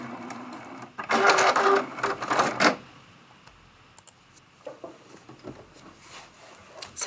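A sewing machine back stitching a churn dash quilt block Christmas ornament, with a loud rapid mechanical whir in two close bursts, then quiet with faint clicks and handling sounds.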